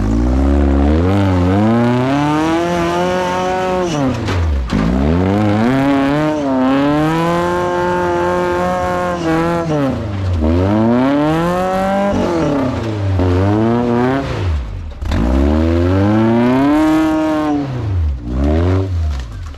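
A Toyota off-road buggy's engine is revved hard at full throttle, loud and near, climbing and falling in repeated surges, with a brief drop between pushes.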